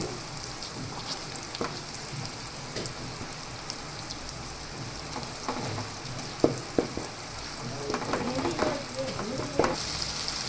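Guvar (cluster bean) and potato curry being stirred with spices in a pan, a steady sizzling frying hiss under scattered scraping and clinking of the spoon, close and moderately loud, no talking.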